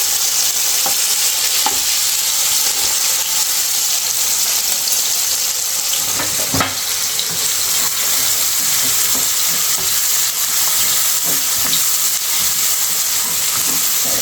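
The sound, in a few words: tomatoes roasting and being turned over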